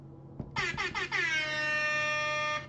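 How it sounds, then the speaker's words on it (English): A loud air horn sounds in one sustained blast after a few short stuttering bursts, harsh and piercing, set in a chemistry lecture with no one talking. "You thought I forgot about my air horn."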